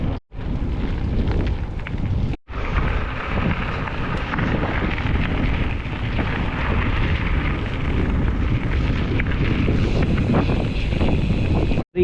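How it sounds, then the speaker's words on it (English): Strong tailwind buffeting the microphone on a gravel bike ride near Gawler, South Australia: a loud, steady roar of wind noise with low rumble throughout, briefly dropping out twice. "The tailwind's pushing me along here."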